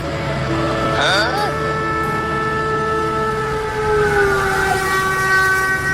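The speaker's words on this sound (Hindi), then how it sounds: "ये टेम्पो तो ट्रेन की लाइन पर ही चलने लगा और आगे से ट्रेन भी आ रही है" A cartoon train approaches on the railway line, with a loud, sustained horn-like wail over a rolling rumble; a brief vocal cry rises near the start.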